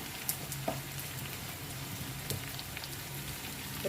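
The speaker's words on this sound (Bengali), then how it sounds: "আদা রসুনটাকে আর লঙ্কাটাকে ভালো করে একটুখানি কষে নিয়ে একটু হলুদ গুঁড়ো দিয়ে দিলাম" Ginger, garlic and green chili fry in oil in a pan with a soft, steady sizzle, broken by a few light taps and scrapes of stirring, close up.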